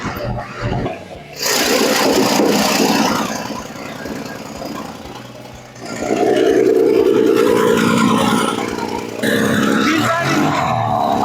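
A 1966 Dodge Dart V8 with a freshly cleaned carburetor runs close by, a steady loud idle rising into throttle blips and revving surges that swell and settle across the stretch.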